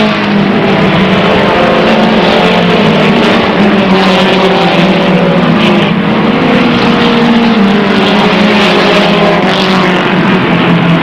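Dirt-track race cars at Airborne Speedway roar continuously as a pack, engines droning loud and steady throughout with overlapping layers of revving and no breaks.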